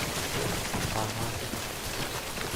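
Steady rainfall in the video game Death Stranding, a dense, even hiss of drops pattering on surfaces that fills the whole stretch without pause.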